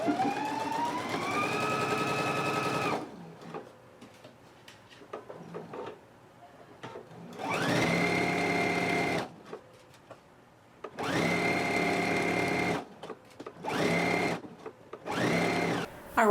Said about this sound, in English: So let's go ahead and do all the stitching now.